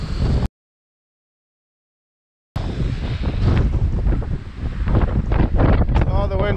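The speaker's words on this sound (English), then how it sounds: "Oh, the wind's stopping me." Strong gusts of wind rumble and buffet the microphone while skiing, broken by a short dropout of silence before the roar resumes loud and close, with a voice speaking over it.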